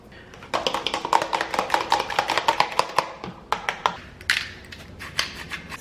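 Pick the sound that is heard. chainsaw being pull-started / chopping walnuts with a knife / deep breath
chopping walnuts with a knife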